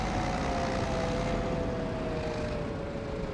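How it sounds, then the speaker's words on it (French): A tractor engine straining under load in the farming game Farming Simulator 25, a steady, loud, droning rumble with a slowly falling tonal whine, continuous and with no talk. "il en chie le tracteur, c'est pas possible"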